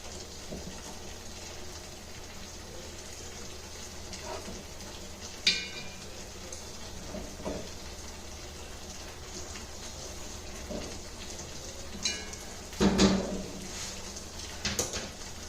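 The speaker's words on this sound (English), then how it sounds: "It's coming back to a boil." Veal paupiette broth returning to a boil in a pot, a steady soft bubbling hiss with a few sharper pops and clinks near the end, fairly quiet and without talk.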